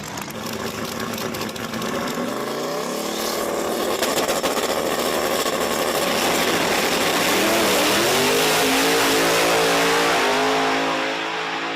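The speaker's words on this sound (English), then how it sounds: "Got the Nova there in the left lane going up against the first gen Camaro." Chevrolet Nova and first-generation Camaro launching side by side at a drag strip, engines roaring loud and close, pitch climbing steadily through the gears as both cars pull away over about twelve seconds.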